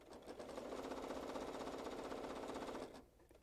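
A sewing machine stitches a placemat in a steady, slowish run of rapid needle strokes that lasts almost three seconds and then stops abruptly.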